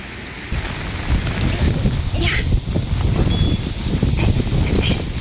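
Steady rain pouring down on a gloomy, windy typhoon day in a city, a loud dense hiss with scattered heavier drops and gusty rumble, close to the microphone.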